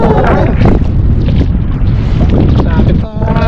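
Strong wind roars steadily outdoors near a boat on open water, a loud, unbroken buffeting rush that dips briefly near the end.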